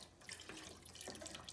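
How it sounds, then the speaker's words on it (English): Vegetable broth poured into a pot for tomato soup, a quiet continuous liquid stream with a couple of small splashy surges, faint and close. "And now we're gonna add half of this broth."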